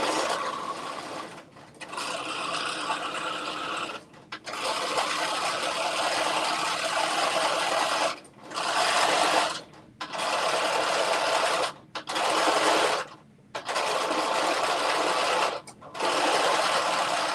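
A sewing machine stitches a seam in long close-up runs of steady mechanical whirring, broken by several short pauses as the stitching stops and starts again.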